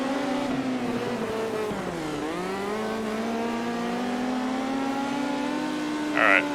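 A midget race car's engine drones steadily in the World of Outlaws dirt racing video game. The pitch dips briefly, then climbs slowly as the car winds up, and a short high whine cuts in near the end.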